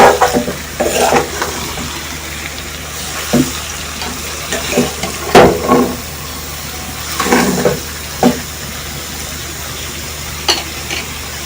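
Karela chicken with bitter gourd being stirred in a pot: spoon scrapes and clacks against the metal come in irregular bursts over a soft sizzle, close and moderately loud, with no talk.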